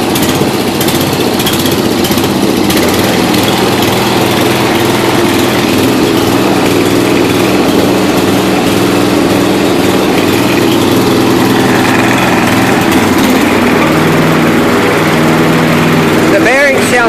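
A 1992 Yard King lawn tractor engine runs after its first start in seven years, a loud, steady, slightly uneven small-engine drone with rattling vibration throughout.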